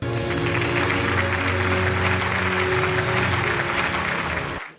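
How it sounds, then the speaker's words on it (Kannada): An audience at the Chittara Star Awards 2024 ceremony claps in a dense, loud, even burst of applause that holds steady for several seconds before cutting off abruptly. "ಬಲಿ ಚಪ್ಪಾಳೆ."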